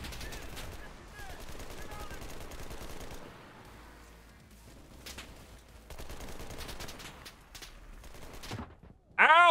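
Sniper fire and other gunshots in the World War II shooter Enlisted, zombie survival mode, crack in scattered bursts over a steady noisy battle din, some near and some far.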